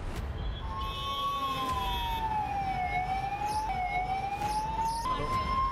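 Ambulance siren wailing in a road traffic jam: a loud, slowly sweeping tone that rises and falls over steady engine and traffic rumble.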